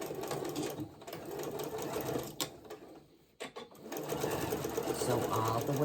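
A sewing machine stitches down a pants seam in steady bursts of rapid whirring, pausing briefly midway before resuming, with a person talking over the machine.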